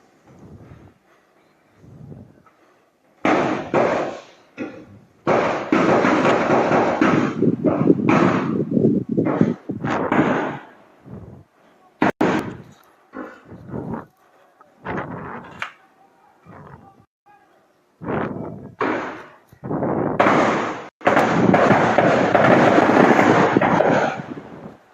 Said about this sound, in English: They are at his gate, firing weapons, firing guns.